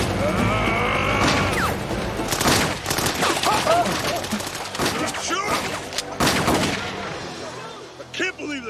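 FN FAL rifle gunfire in a movie battle scene comes as rapid, loud cracks and bursts crowding together, mixed with shouting and action noise, then thinning out toward the end.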